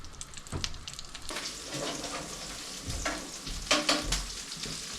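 Tomatillos sizzle and fry steadily in a hot pan, with stirring scrapes and occasional louder crackles and clatter, close and continuous with no talking.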